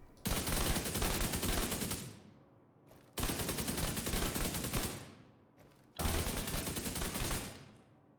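A weapon loaded with hollow point ammo fires in The Division 2 video game: three long, loud bursts of rapid gunfire, each a couple of seconds long, separated by short gaps.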